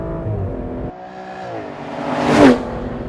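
A 2014 Aston Martin Vanquish V12 engine revs up and accelerates, a smooth rising roar that swells loudest near the end before easing slightly.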